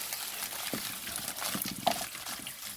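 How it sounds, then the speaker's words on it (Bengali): Water trickles and pours over freshly picked mangoes from the home garden, set to soak before pickling, making a soft, close splashing with small irregular drips. "একটু জলে ভিজিয়ে রাখবো আমগুলো"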